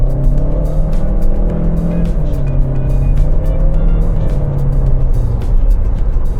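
A Chery Tiggo 4 Pro with a CVT gearbox and 108 kW accelerates hard, its engine holding a loud, steady drone that rises gradually without distinct gear shifts, heard from nearby over road noise, with no talk.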